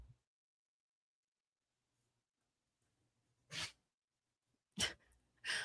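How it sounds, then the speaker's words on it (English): A dog sneezes in a quiet room, with one faint sneeze followed by two sharp, louder bursts spaced about a second apart, each alone against near silence. "the dog's over here sneezing"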